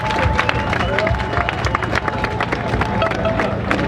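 An open-air crowd at Place Victoire in Kinshasa gives a minute of applause for a musician, dense rapid clapping mixed with cheering and murmuring voices, steady and close throughout.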